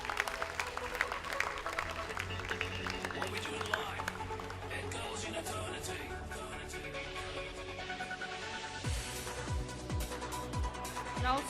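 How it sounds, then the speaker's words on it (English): Applause at a secondary school debate grand final ceremony, a crowd clapping steadily under a murmur of voices and background noise, with some sharper sounds toward the end. "Round of applause."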